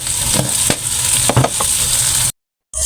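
Shrimp paste (alamang) sizzles steadily in a pan while a spoon scrapes and stirs it in a few distinct strokes. The sizzle is close and loud, then cuts out abruptly near the end.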